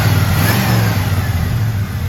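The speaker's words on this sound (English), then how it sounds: "Go ahead and rev it up a little bit." A 1985 Ford F250 Lariat 4x4 engine revs briefly, a loud, close, throaty rumble sustained over a couple of seconds.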